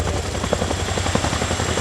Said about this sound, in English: With the troops and quad bike now gone, the aircraft departs with an over-the-shoulder transition.